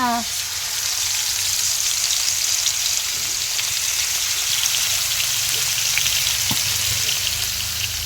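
Fish frying in oil on a clay stove in a home kitchen, a loud, steady sizzle that keeps up throughout with light crackles on top.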